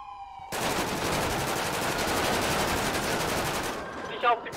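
Rapid sustained gunfire rattles loudly in a police roleplay video game, a continuous burst of automatic shots lasting several seconds, followed by a brief siren-like tone and a few clicks at the end.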